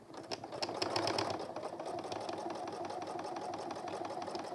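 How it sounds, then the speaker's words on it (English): A sewing machine runs a steady line of stitching along the edge of a messenger bag, its rapid mechanical chatter continuous and fairly close, with no voices over it. "With the line of stitching I've just sewn."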